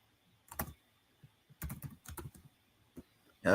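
Typing on a computer keyboard, with short bursts of clustered key clicks separated by pauses, close and fairly quiet, ending in a louder clatter.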